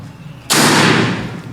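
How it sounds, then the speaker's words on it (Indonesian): A PCP Marauder air rifle with an OD38 air tank fires a single sharp, very loud shot, a sudden crack that decays over about a second after a quiet lead-in. "Untuk tembakan yang pertama."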